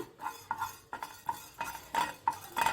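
Fenugreek seeds are roasted and stirred in a pan on the stove, with a rhythmic series of close metallic scrapes and clinks from a spoon against the pan, about three per second.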